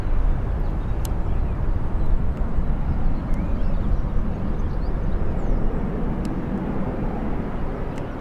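A Ryanair airplane at Birmingham airport, heard as a steady, distant low roar of jet engines that holds for about eight seconds with no talk.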